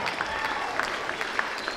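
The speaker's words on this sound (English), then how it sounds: "Let's give them another round of applause" Middle school Veterans Day assembly crowd clapping, a brief burst of applause from many hands with a few sharper individual claps standing out, steady and fairly close.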